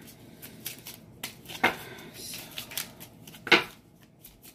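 Tarot cards being shuffled and pulled from a deck, with soft papery rustling broken by two sharp, snappy card bursts close by, and a brief voice at the start.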